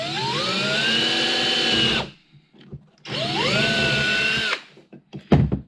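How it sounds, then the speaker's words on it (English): Power drill boring holes for a small sailboat mast mount, with two loud close whining bursts of about two seconds each, each separated by a pause and followed by light clicks and handling knocks. "I'm going to drill in these before the metal"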